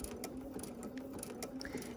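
A sewing machine stitching a quilt with a wobble stitch runs with a steady, rapid mechanical chatter of needle and feed, close by and continuous throughout.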